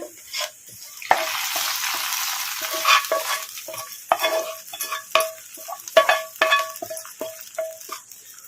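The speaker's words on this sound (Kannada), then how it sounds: "ಈಗ ಸ್ಟವ್ ಆಫ್ ಮಾಡಿಕೊಂಡು ಬದನೆಕಾಯಿ ಪಚ್ಚಪುಲ್ಸಿಗೆ ಒಗ್ಗರಣೆ ಹಾಕ್ಕೊಂಬಿಡೋಣ" Tempering for brinjal pachadi crackles and spits in a small pan, a loud, close sizzle broken by bursts of popping and stirring, with no voices.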